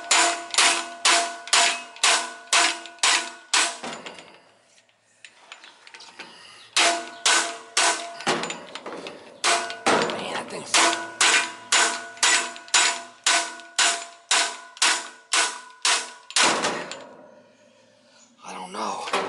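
Repeated hard metallic strikes of a hammer on a knockout tool, used to pull a fan blade off its shaft, come in fast rhythmic bursts of about a dozen blows, with brief pauses and some talk in between.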